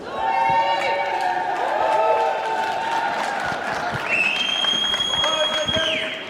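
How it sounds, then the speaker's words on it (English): Arena crowd at a Zurich vs. Kallio basketball game late in a close contest, a dense continuous roar of cheering, whistles and shouts from the stands, loud and sustained throughout. "Can we hear some cheering for both teams?"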